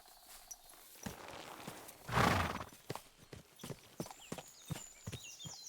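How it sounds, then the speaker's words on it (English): A horse in Kingdom Come: Deliverance II lets out one loud whinny near the start, followed by steady clip-clop hoofbeats on hard ground, close and clear with faint ambience behind. "Here's my horse."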